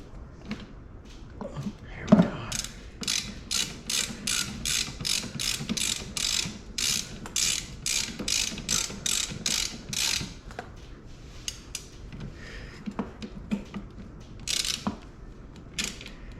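Ratcheting wrench clicks in rapid bursts while a bolt is loosened and tightened on a Polini Thor 202 engine assembly fitted to a Kangook Amaruk XD, close and fairly loud, with brief pauses between runs.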